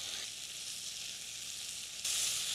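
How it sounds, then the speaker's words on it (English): Steady, loud sizzling of shrimp frying in a hot pan, a continuous crackling hiss that swells slightly louder near the end. "I like to make the shrimp sizzle quite a bit"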